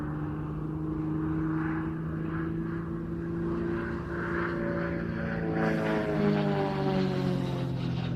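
An aerobatic propeller plane flies its air show routine at the International Ayr Show 2024, giving a steady droning engine tone that shifts in pitch as it manoeuvres, moderately distant and without voices.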